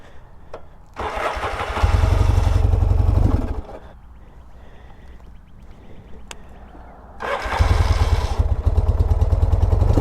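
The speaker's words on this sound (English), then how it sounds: "You can hear this plate chattering" Yamaha XS650 motorcycle engine running in gear with a rattling clutch plate chatter, loud rough bursts near 1–3.5 s and again from 7 s, easing to a quieter idle between.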